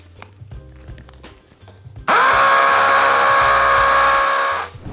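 A 1/2-inch cordless drill spins a huge drill bit with a loud, steady high-pitched whine that starts abruptly after a quieter stretch and holds for under three seconds before winding down.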